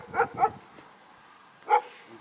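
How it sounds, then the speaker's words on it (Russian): A dog on a riverbank barks twice in quick succession, then once more after a short pause, moderately close and clear against a quiet background. "Лает."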